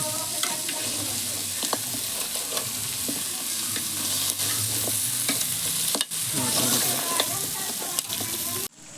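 Crab fry sizzles steadily in a pan, with frequent stirring scrapes and clinks over a loud, continuous frying hiss.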